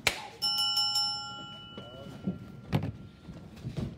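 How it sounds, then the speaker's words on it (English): A wrestling ring bell clangs in a quick series of bright strikes to start a television championship match, followed by crowd noise and thumps in the arena. "Ring the bell."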